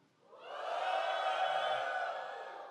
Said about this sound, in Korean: 즐거우신 분 소리 질러봐